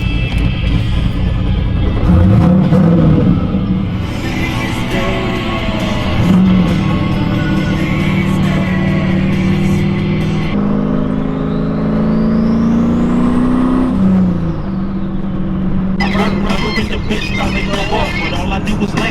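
A warmed-up V6 car engine idles and revs with a steady low rumble, rising and falling in pitch, at a car meet with people talking nearby.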